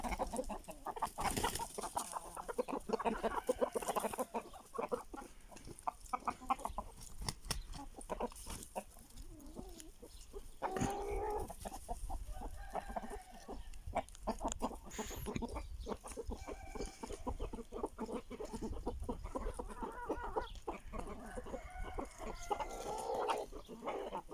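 Aseel chickens clucking and fowl calling continuously, fairly loud and close, with a busy, noisy farmyard background.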